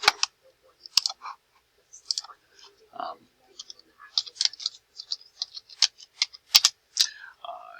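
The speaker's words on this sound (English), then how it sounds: "I'm going to try to type a little bit here instead of" Keys on a computer keyboard clatter in irregular bursts of sharp clicks, close and fairly crisp, with quiet pauses between short runs of typing.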